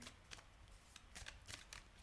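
Tarot cards being shuffled by hand in repeated riffling bursts, close and quiet, with a soft rustling texture and no talking.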